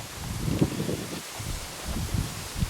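Wind blows outdoors by a dyke on the Norfolk Broads, a steady low rumbling buffet with gusty swells and some rustle, fairly loud and without talk.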